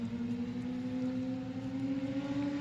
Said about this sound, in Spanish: El sonido de la moto